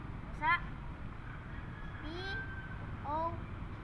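A cat meows three times at spaced intervals, short and fairly close, over steady background hum and faint talk during a children's spelling game.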